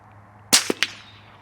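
Outdoors during a rabbit hunt, a single sharp crack from a 17HMR rifle sounds close and loud, followed by two quick, fainter echoing snaps from the surroundings before the air settles.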